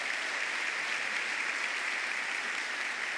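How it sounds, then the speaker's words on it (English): An audience at a school honors awards evening applauds steadily, a continuous wash of clapping at moderate volume with no pauses. "Let's give a big round of applause to George Mason."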